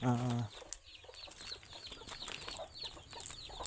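Native chickens and chicks cluck and chirp in short scattered bursts, with a brief low animal call at the start and light farmyard noise throughout.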